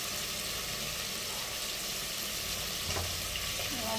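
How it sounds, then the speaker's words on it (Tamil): Tomatoes sautéing slowly in a pan with salt, a steady close sizzle and hiss running throughout with a faint clink near the end, no voices. "ஸ்லோவாக வச்சு தக்காளியை வதங்கி விட்டுருங்க"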